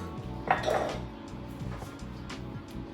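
A utensil scrapes and clinks inside a cooking pot as water, oil and tomato paste are stirred together, with a rhythmic metallic rattle at close range and one brighter knock early on.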